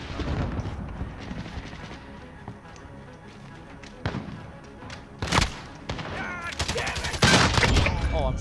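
Rapid gunfire in Call of Duty Modern Warfare gun game mode, bursts of sharp shots that grow louder and denser toward the end, mixed with game effects.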